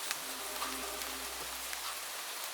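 Steady rain falls outdoors at a park near Shillong, a dense, even hiss of drops spattering on surfaces with no voices over it.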